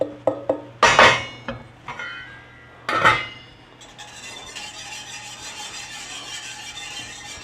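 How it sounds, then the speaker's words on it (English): Spoon scraping and knocking against a pot of cooked rice, a few sharp clinks and rubs up close, then a steady soft scraping stir continuing. "So I just need to stir it right now."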